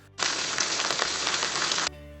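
Generated sound effect of bacon frying: a dense, steady sizzle with faint crackles starts abruptly, holds evenly for under two seconds, then stops sharply, with no voices.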